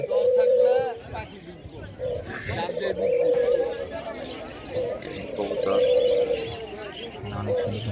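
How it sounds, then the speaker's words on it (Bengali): Low, hollow cooing from a dove repeats several times over a noisy crowd at a bird market, with people talking nearby. "আবার গুগো পাখি ডাকতেছে"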